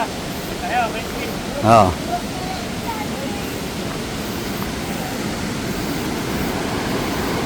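Maranum Falls roars as a steady broadband rush of falling water, continuous and fairly loud, with a person briefly exclaiming over it near the start.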